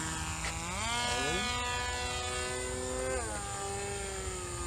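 Homemade model airplane on its maiden flight, a small propeller engine droning steadily with its pitch sweeping up and down as it passes, moderately distant with no talk.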